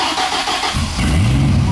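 A 1990s Dodge car engine starting up, a brief cranking sound that catches into a loud, close running engine with a deep rumble, and nobody speaking.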